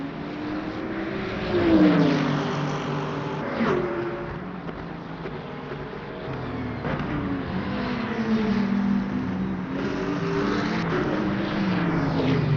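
Racing cars lap a track in the sim racing game Le Mans Ultimate, with close engine notes rising and falling as they brake and accelerate, layered over a continuous loud motor drone throughout.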